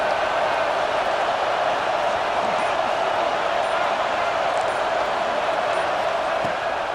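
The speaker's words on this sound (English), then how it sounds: "and Sloopy, the Buckeye crowd alive on third down." Ohio State Buckeyes football crowd in a stadium on third down, a dense, loud, unbroken roar of cheering held steady throughout, with a commentator's voice faintly under it.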